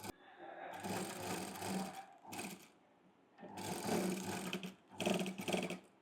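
A sewing machine stitches a Katori blouse in several bursts of rapid, close whirring, separated by short pauses, with no one talking.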